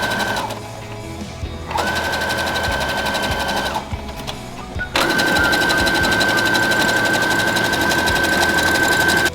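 A sewing machine bastes elastic into pro wrestling kick pads, running in rapid whirring bursts with short pauses between, then a longer steady run, close and loud.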